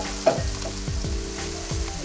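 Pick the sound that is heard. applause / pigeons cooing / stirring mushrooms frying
stirring mushrooms frying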